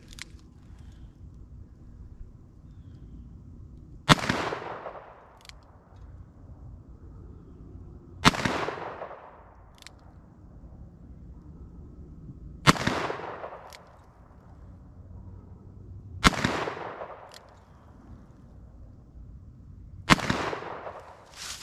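A Smith & Wesson 686+ revolver fires .38 Special 158-grain rounds at a range, five sharp shots spaced about four seconds apart, each followed by a short ringing decay over low background noise.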